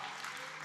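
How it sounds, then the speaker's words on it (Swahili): A church congregation claps for joy, a dense and even burst of many hands heard briefly and at moderate distance, with no voices over it. "Mpigie Bwana makofi ya furaha"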